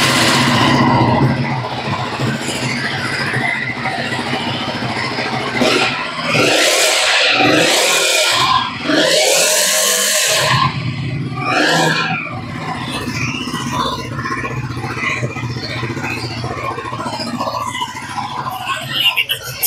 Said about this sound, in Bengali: প্রথমত আমি চাবিটা অন করার সময় গাড়িটা স্টার্ট দিয়ে একটু শুনিয়ে দেবো আপনাদের সাউন্ড